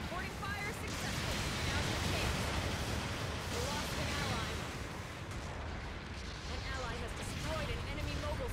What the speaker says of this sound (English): Long-range support fire incoming!